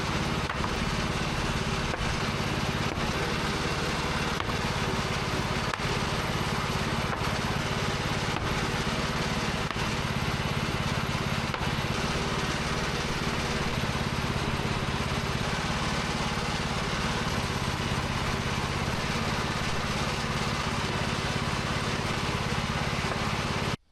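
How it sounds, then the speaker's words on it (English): Portable sawmill cutting logs into 1-inch slabs for exterior siding. A loud, steady engine-and-blade drone runs without a break for the whole stretch, with no voices. "but I have a lot of milling to do."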